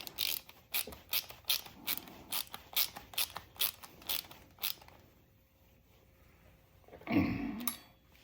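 A ratcheting 10 mm wrench tightening a bolt on a Honda Africa Twin DCT foot shifter, about a dozen crisp ratchet clicks in a steady rhythm, close up. The clicks are followed by quiet and a brief clunk.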